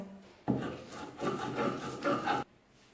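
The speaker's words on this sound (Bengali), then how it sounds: "অল্প অল্প করে নিয়ে আমি অল্প অল্প করে বেটে নিব" Chilies and coriander leaves with salt are ground on a flat grinding stone, a rough scraping rub in about three close strokes, each lasting under a second, with no talking.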